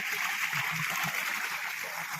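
Irrigation water flows into a field, rushing with a steady broadband splashing hiss, continuous and fairly close, with faint voices underneath.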